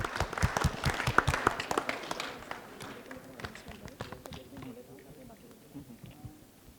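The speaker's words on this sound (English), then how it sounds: "Let's have a big round of applause," Audience applause as panelists take the stage at a DevOps leadership panel, scattered clapping and footsteps that thin out and fade, with talk continuing underneath.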